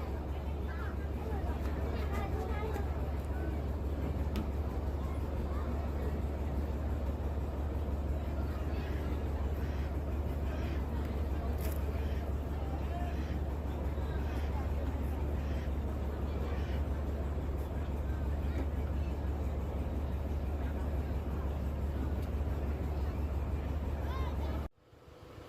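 Passenger launch on the Buriganga River bound for Dhaka, its engine droning as a steady loud low rumble throughout, with faint crowd babble and water noise over it, cutting off abruptly near the end.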